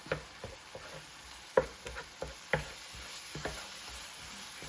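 Chopped jalapeno and tomato sauce cook in a pan, giving a soft, steady sizzle broken by a series of light scraping clicks as the spoon stirs, all fairly quiet and close.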